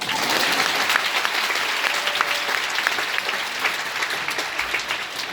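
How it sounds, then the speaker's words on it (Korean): A church congregation applauds a married couple of surgeons during a testimony, with loud, dense, continuous clapping filling the room from start to finish. "박수 한번 드릴게요"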